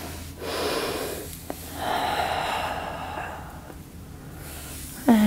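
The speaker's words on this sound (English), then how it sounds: "Take one more breath." During a yoga pose, a person draws a long audible breath in and lets it out slowly, with two or three soft airy inhale-exhale cycles close to the microphone and a brief sharper sound at the end.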